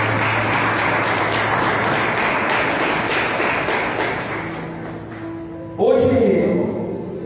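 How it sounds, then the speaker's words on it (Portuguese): A church congregation claps together in a dense, sustained patter of applause, fairly loud and steady, easing off toward the end as a voice and a sustained instrumental tone come in. "Aplauda mais uma vez nosso Deus"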